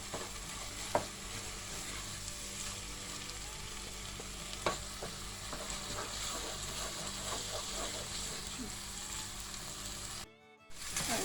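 Içli köfte filling pan-roasts with a continuous, even sizzle and a few soft utensil taps, briefly cutting out near the end.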